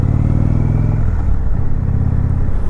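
A 2019 Indian Chieftain Dark Horse motorcycle heard from the rider's position, a loud, steady, deep engine rumble with a shift in pitch partway through, with no voices.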